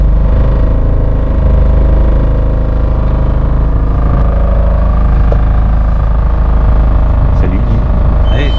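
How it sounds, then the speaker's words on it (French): A boat's motor runs steadily and loudly close by, a deep continuous drone with no breaks, heard at the start of a calm trip along the coast from Toulon toward Hyères; faint voices sit under the engine. "Tu mets le moteur en route et après voilà."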